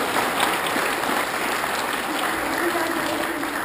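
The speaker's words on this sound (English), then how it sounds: "I just want to give everybody here a big round of applause first of all" Audience applause at a taekwondo black belt spectacular, a dense, steady wash of clapping from a large crowd that holds an even loudness throughout, with voices mixed into the noise.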